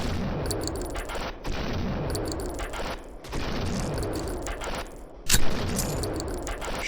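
Shotgun blasts in a video game ring out in quick clusters, loud sharp reports with short gaps between bursts and one especially heavy bang near the end, no talking over them.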